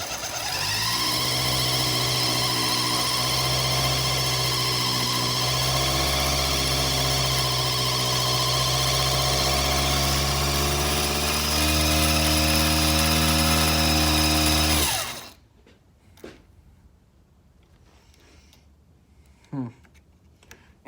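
A homemade lathe motor runs loud and steady with a strong hum and whine for about fifteen seconds, then cuts off abruptly, leaving faint clicks and brief knocks in near silence.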